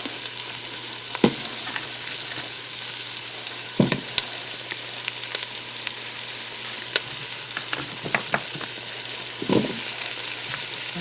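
Potatoes tossed into a hot pan in a Ninja Foodi, sizzling and frying steadily, with a few louder clatters and stirring scrapes scattered through.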